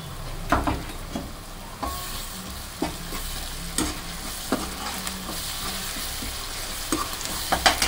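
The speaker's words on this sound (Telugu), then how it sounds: "అల్లం వెల్లుల్లి పేస్ట్ అయితే వేస్తున్నానండి. 1 స్పూన్ వేస్తున్నానండి." Ginger garlic paste frying in a hot pan with a continuous sizzle, punctuated by regular scraping knocks of a spoon stirring it, close and fairly loud.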